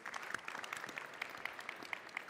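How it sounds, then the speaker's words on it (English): A small audience claps after a speech, scattered quick handclaps, fairly faint and even, over a few seconds. "That's a big round of applause."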